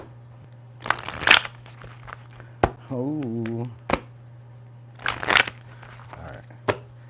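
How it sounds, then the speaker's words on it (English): Tarot cards shuffled in two short, crisp riffling bursts a few seconds apart, over a steady low electrical hum, with a brief voice, a soft warbling tone and a few light taps in between. "let's get a quick shuffle."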